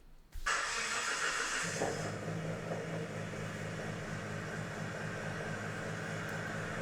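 Nissan R32 GT-R engine starting and settling into a loping idle, a sudden loud onset followed by a steady, uneven low rumble that holds alone throughout.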